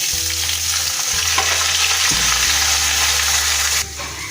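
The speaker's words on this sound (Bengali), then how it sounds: "আমি কড়াইয়ে তেল গরম করে নিয়েছিলাম, এর মধ্যে দিলাম তেজপাতা, লবঙ্গ, দারচিনি আর এলাচ। এরপর আমি এর মধ্যে দিয়ে দিব কুচানো পেঁয়াজ" Chopped onion hitting hot oil in a karahi already holding bay leaf, cloves, cinnamon and cardamom, a loud, continuous sizzle with stirring and clatter underneath that drops off sharply near the end.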